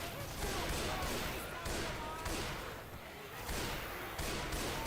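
Continuous loud gunfire in the zombie shooter Left 4 Dead 2, rapid overlapping shots with a brief dip midway, speech faintly mixed in.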